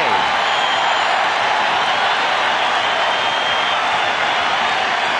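A baseball stadium crowd at a Dodgers game roars loud and sustained, a dense wash of cheering that holds steady with no breaks and no clear voice on top.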